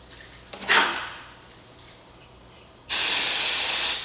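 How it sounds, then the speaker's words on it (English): Two hissing aerosol sprays of glue activator nearby, on crown molding: a short quick burst, a pause, then a longer steady spray lasting about a second. "Spray some activator."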